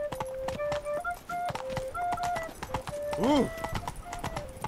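Roach, a horse in The Witcher 3, gallops with rhythmic clip-clop hoofbeats and a neigh beneath game music, while a person speaks and reacts briefly over the top.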